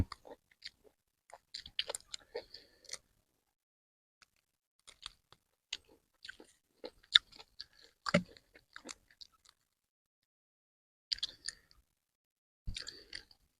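Close, crunchy chewing of fried pork ribs eaten with spicy papaya salad comes in irregular bursts of bites and crackly mastication, separated by short quiet pauses, with no talking.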